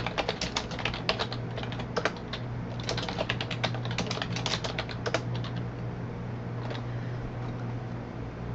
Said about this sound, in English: if I just start typing on this page without doing anything